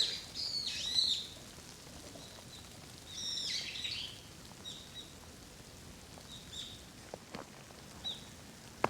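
Shrill, squeaky brown-eared bulbul calls ring out in a few short bursts over faint background patter, with quieter calls and scattered ticks following, on a mountain trail.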